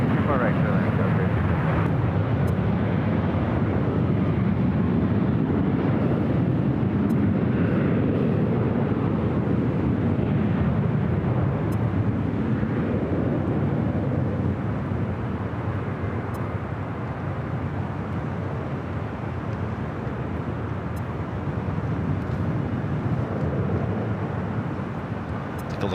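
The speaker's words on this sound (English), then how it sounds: "Next arrival is Southwest Airlines, flight 493, coming up from Dallas Love Field. It's a 737 at MAX 8." Southwest Airlines Boeing 737 MAX 8 arriving at LAX from Dallas Love Field, a loud sustained jet roar rumbling steadily throughout, slowly shifting as the aircraft passes, with faint voices beneath.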